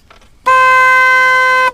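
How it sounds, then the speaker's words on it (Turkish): A single loud, steady boat horn blast on a marine boat sounds for just over a second, rich and tonal, starting abruptly and cutting off cleanly after a brief quiet moment. "Birincisi korna, horn"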